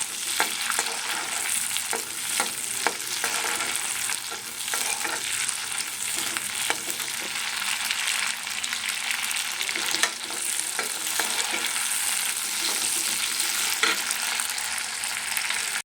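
Red chillies warming gently in oil in a frying pan for a red chilli ranjaka chutney: a steady, close, continuous sizzle with occasional stirring scrapes and light crackles, no voices.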